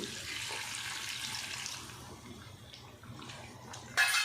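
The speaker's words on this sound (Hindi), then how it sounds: "पानी हम 1 गिलास तकरीबन डाल देंगे" About a glass of water pours steadily into a pot of chicken degi korma whose yogurt and masala have dried out, a close, splashy rush that fades after a couple of seconds.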